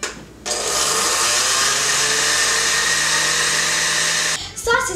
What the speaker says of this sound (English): To make things safe, we'll use a blender.